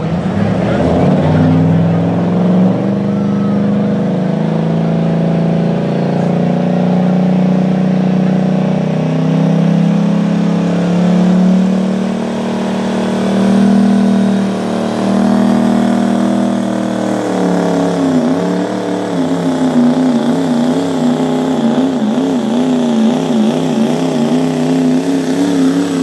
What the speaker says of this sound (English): Has a truck very similar to this current setup that you see out on the track with a wing.